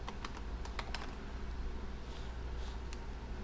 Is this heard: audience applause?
no